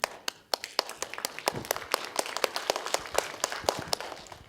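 Audience applause at a mayor's public safety forum, many sharp claps overlapping into a steady patter, fairly close and moderately loud, with no talking over it.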